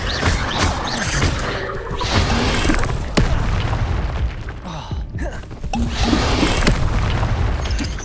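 Fiery Incendio spell blasts in the Hogwarts Legacy video game, a run of loud booming bursts and crackling impacts layered over continuous game noise, with a few sharp hits standing out.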